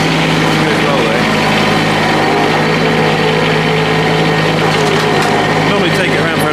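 A small farm vehicle with a basic hydrostatic transmission runs its engine at a steady idle, loud and close, with a constant broadband drone throughout.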